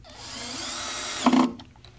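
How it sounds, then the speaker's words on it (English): Power drill driving a strap button screw into a wooden mountain dulcimer, a steady whirring run of about a second that rises into a brief louder burst of bit grinding before it stops, close and alone. "tighten it the rest of the way with the power drill"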